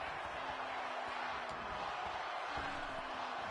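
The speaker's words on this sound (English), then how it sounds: "Crowd chanting one more time." Wrestling crowd at an EXW indoor show, a broad steady roar of many voices chanting together, continuous and fairly distant, with no clear talk over it.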